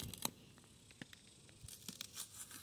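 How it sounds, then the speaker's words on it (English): Dead leaves are peeled off a giant taro plant, faint tearing and crackling rips in a few short bursts, quiet and close. "See if some of these will peel down."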